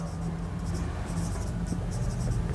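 A pen scratches steadily across paper while a math solution is written out, a close, continuous scribbling texture with faint room hum and no clear talk.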